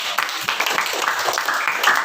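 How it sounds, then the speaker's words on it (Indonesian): Classroom group of students applauding a student group, a short burst of fairly quick, steady clapping with no pause. "Tepuk tangan dulu."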